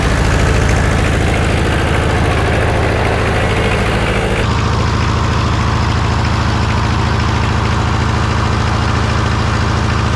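A John Deere 1010 tractor, freshly rebuilt and with its muffler sitting loose so some exhaust leaks underneath, idles steadily with a dense low rumble and chugging pulse, close and continuous, with a slight shift in tone midway.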